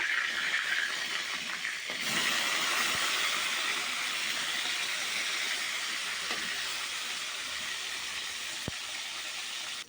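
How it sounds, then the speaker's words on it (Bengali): Pieces of a big silver carp frying in oil make a steady, dense hiss close by, with a couple of sharp pops and ticks and no speech. "মাছগুলো এক পিঠ ভাজা হয়ে গেছে এবার আমি আর এক পিঠ উল্টে দেবো"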